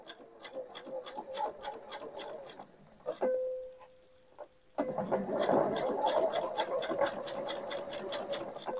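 A domestic sewing machine stitches a zipper onto a fabric changing bag, running in a steady rapid whirring rhythm, pausing briefly with a faint whine, then resuming at full speed, close and clear.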